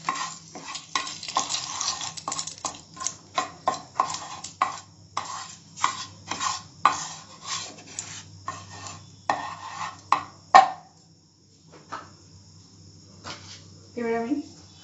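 Cinnamon and cloves frying in a pan for a restaurant-style Mughlai shahi paneer, with a soft sizzle under repeated rhythmic stirring scrapes that stop near the end, followed by a few quieter clinks.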